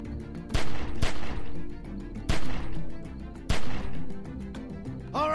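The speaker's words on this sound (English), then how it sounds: "Remember, don't stop shooting." Repeated loud gunshots from The Walking Dead video game, three or four sharp broadband blasts with rapid follow-up shots over a sustained droning music bed, no talking.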